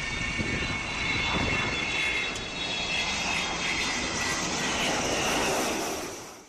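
Avro Vulcan bomber jet aircraft flying, a steady broad roaring engine noise that holds level throughout and fades slightly at the end, with no talk.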